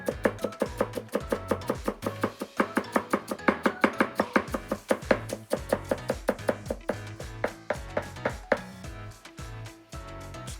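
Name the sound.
knife cutting cucumber and leek on a cutting board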